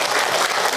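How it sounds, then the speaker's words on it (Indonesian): An audience at an Islamic religious lecture breaks into a brief, dense burst of clapping, close and fairly loud. "Tepuk tangan buat Bunda yang bertanya."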